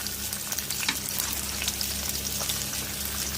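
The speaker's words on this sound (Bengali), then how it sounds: "আমার পেঁয়াজটা ভাজা হয়ে গেছে" Onions frying in hot oil on a home stove give a steady, dense sizzle and crackle throughout, close and fairly loud with no voices.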